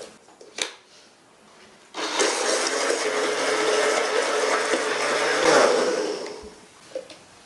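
An electric blender whirs steadily for several seconds, blending lime with about half a liter of water, starting abruptly and cutting off with a few clunks before and after.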